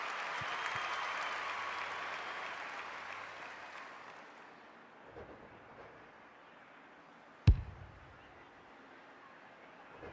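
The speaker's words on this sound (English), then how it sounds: "The crowd noise tells you all you need to know." A stadium crowd roars and applauds after an AFL goal between Southport and North Melbourne in the AFL 26 video game, with a loud swell that fades over several seconds, followed by a single sharp thud.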